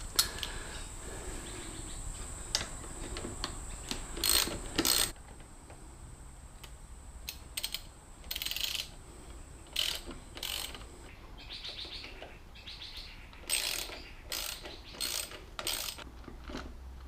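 A ratchet works on 10mm bolts holding the drive belt guard of a Harley-Davidson Street 500 motorcycle, giving repeated bursts of quick clicking with quiet gaps between them, close by, while birds chirp faintly in the background.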